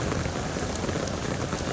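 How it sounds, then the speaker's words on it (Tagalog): Heavy rain pours steadily during a typhoon while someone walks to work outdoors, a dense, loud, unbroken hiss and patter of drops with no voices. "Lakad lang tayo sa malakas na buhos ng ulan."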